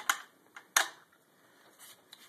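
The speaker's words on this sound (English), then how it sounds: "Put the bolt back in." Mosin Nagant rifle bolt, on a rifle fitted with an ATI stock, slid back into the receiver, giving two sharp metallic clacks followed by softer clicks and rattles, close and alone.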